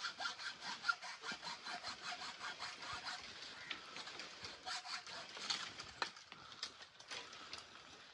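A hand saw cuts through bamboo at a bamboo nursery, close and steady with rapid rasping back-and-forth strokes over several seconds and no talk.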